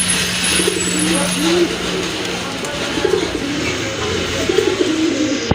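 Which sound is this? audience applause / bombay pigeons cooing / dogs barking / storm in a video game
bombay pigeons cooing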